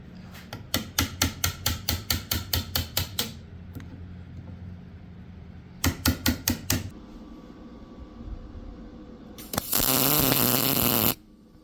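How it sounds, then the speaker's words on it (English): Chisel hammered against a scrap metal piece to cut it to size, with bursts of rapid ringing metallic blows in quick series, pauses between them, and a long harsh grinding scrape near the end, close and loud. "Now I'm just going to use a chisel and work on getting that size."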